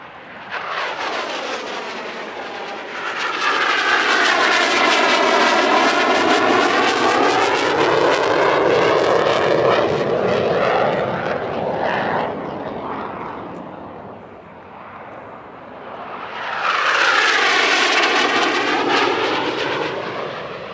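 A Northrop F-5 jet in Patrouille Suisse colours performing an airshow display at Radom makes two loud roaring passes, each swelling and sweeping in pitch as it screams by, with a brief dip between them.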